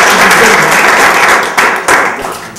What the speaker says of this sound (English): So let's give Susan another round of applause.